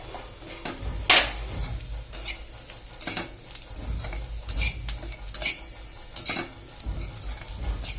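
Finely chopped carrots are stirred in a pan as they cook, with repeated metal spoon scrapes and clinks against the pan over a low sizzle, in irregular bursts.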